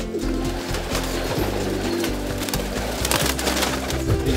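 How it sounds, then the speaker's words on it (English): Pigeons on a farm cooing close by, low rounded coos repeating in overlapping phrases, with light wooden knocks and rustling in the background and no talk. "This farm is also home to a variety of pigeons."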